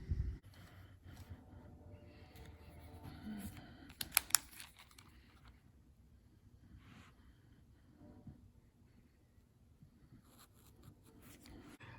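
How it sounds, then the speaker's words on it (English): Marker drawn along a square to mark a 9-inch cutting line on seat upholstery fabric for an MG TF, a steady soft scratching and rubbing stroke up close with a couple of sharper taps midway, no talking. "I have my square lined up here, and I'm gonna draw my line to cut right like that."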